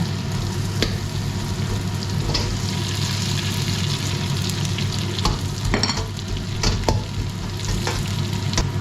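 Butter and sunflower oil sizzle steadily in a pan with garlic shrimp, a continuous frying hiss with occasional sharper crackles and stirring clinks, close and fairly loud throughout.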